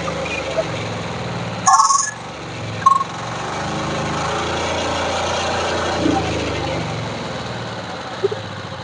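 A Texas 12 HP power weeder with electric start runs at an agricultural exhibition stall, its small engine giving a steady, fairly loud drone. A few brief clicks and knocks sound near the start, and there is faint crowd noise.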